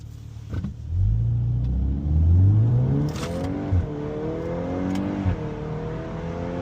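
A car engine revs and accelerates nearby, its rising whine climbing and falling through several gear changes over a steady road rumble, loud and with no talking.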